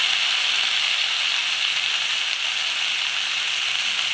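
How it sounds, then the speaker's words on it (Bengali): Vegetables and long beans fry in a pan for a spicy crab torkari, a loud, even, continuous sizzle with no pauses and no talking. "বরবটি দিয়েও নাড়িয়ে নিচ্ছে, ভেজে নেবে সব সবজি দিয়ে।"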